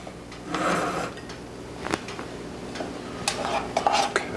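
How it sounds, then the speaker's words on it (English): Cooked brown rice is spooned from a rice cooker onto a serving plate down the middle, with soft scraping and a few light clinks of spoon against dish, fairly close and quiet. "I'm just going to put this on a serving plate. I'm going to put the rice right down the middle."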